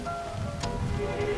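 Rain falls outside in a village, a steady close patter of drops that runs unbroken under faint background music.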